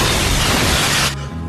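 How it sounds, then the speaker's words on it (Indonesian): A dynamite crate blows up inside a church in a film scene: a loud, dense roaring blast that sustains for about a second, then cuts off abruptly into a low lingering rumble. "terjadilah ledakan yang besar menghancurkan gereja"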